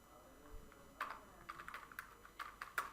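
Soft, close clicks of typing on a computer keyboard, irregular keystrokes in short bursts against a quiet room background.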